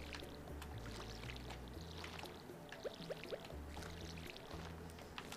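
Crops are watered in the Stardew Valley video game, with soft splashing pour sounds and a few light water blips over a quiet background music bed, no talk.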